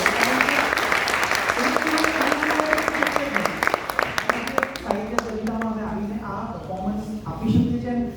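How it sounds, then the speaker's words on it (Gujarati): Gujarati literary event audience in Ahmedabad breaking into sustained applause, dense clapping throughout with voices talking over it and the applause thinning toward the end. "ગુજરાતી ઓડિયન્સ માટે એક વાર તાળીઓ વગાડવી જોઈએ."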